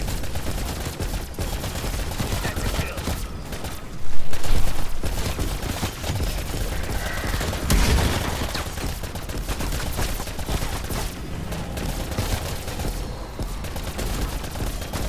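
Die Shockwave wonder weapon firing in a zombies video game, a sustained barrage of dense blasts and gunfire with one heavier burst, loud and continuous throughout.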